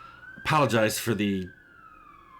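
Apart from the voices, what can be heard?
police siren passing outside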